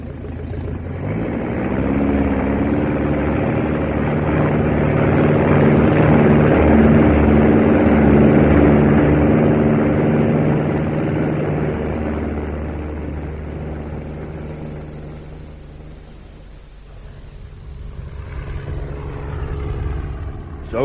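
A 1976-era wartime propeller plane engine drones steadily and loudly as it runs up and takes off, then fades away into the distance, leaving a quieter mix with faint voices near the end.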